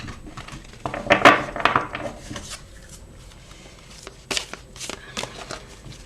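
Oracle cards being shuffled by hand: a loose series of papery riffles and flicks in uneven bursts, close and fairly loud, with quieter gaps between them.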